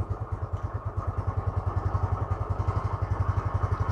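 A motorcycle engine runs close by after tuning, idling with a steady pulsing thump and a few light blips of throttle, no voices over it.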